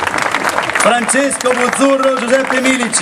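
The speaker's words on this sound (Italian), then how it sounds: "mentre prosegue l'applauso" An audience applauds after a concert performance by a guitarist and a harmonica player, with steady clapping under someone speaking.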